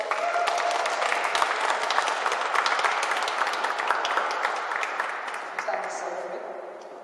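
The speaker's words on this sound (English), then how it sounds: "Give me a big round of applause" Loud, close audience applause at a live magic show in a venue, dense crackling clapping that holds steady for several seconds and then thins and fades toward the end, with a few voices mixed in.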